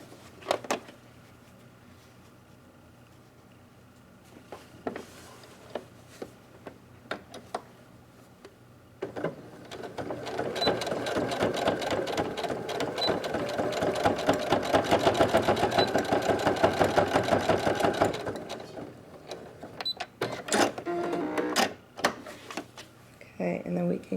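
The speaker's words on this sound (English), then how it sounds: "And making sure to stitch a few times, tacking in place good." A sewing machine stitches wire into a fabric face mask, a steady mechanical whirring run of about ten seconds framed by clicks and handling sounds, close, with no voice over the stitching.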